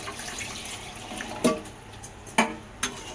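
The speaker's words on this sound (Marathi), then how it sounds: "पाणी ओतायचं ना." Water poured into a pot of cooking prawn rice lands in a few brief splashes over a quiet background.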